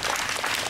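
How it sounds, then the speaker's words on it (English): Audience applause at a libation ceremony honoring the graves of black ancestors, a brief burst of dense, steady clapping from a crowd at moderate loudness. "Let's give Terry a big round of applause."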